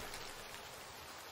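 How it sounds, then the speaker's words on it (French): Light rain falls in the World War II shooter game Hell Let Loose, a faint, soft, even patter with no voices. "Sympa la petite pluie, j'aime bien"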